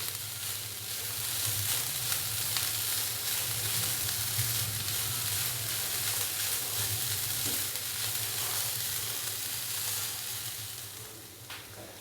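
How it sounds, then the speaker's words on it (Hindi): Onions frying in a pan for keema samosa filling, a constant close sizzle over a low rumbling hum, with faint scrapes of stirring now and then and nobody talking. "प्याज को अच्छे से मिक्स करेंगे और इसको मज़ीद 2 से 3 मिनट के लिए कुक कर लेंगे ताकि प्याज भी थोड़ा सा नरम हो जाए"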